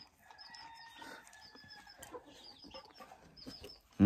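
Hens cluck softly and intermittently in a quiet farmyard, with short, scattered calls at moderate distance and a faint, drawn-out crow-like call in the background, ending with a brief thump.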